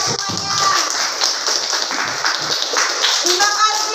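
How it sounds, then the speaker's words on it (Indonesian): A small group, likely teachers and children, claps at the close of an online guidance session, with light scattered applause under cheerful talk. "Kasih tepuk tangan untuk kita semuanya."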